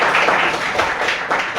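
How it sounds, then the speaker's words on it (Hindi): An audience claps at a business plan presentation event in Muzaffarnagar, a loud burst of applause with several rising and falling waves of clapping. "एक बार जोरदार तालियां"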